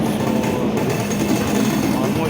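Station ambience beside a Vijayawada–Gudur train standing at a railway platform, a steady low rumble and hum with crowd noise and voices mixed throughout.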